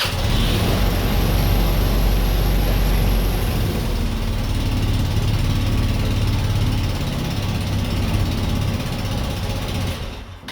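A Royal Alloy GT125 scooter engine runs steadily after a new exhaust is fitted, a loud continuous mechanical drone holding for about ten seconds before cutting off near the end.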